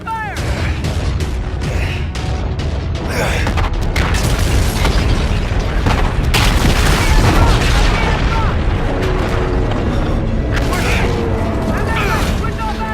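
Ship battle in Call of Duty: Infinite Warfare, with dense, loud gunfire and booming explosions running continuously, shouted commands breaking in over the din.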